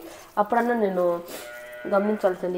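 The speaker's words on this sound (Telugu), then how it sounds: "చిన్న మేక పిల్ల ఉంది." A young goat kid bleats in a few drawn-out, wavering calls, close by, while a person talks over and between them.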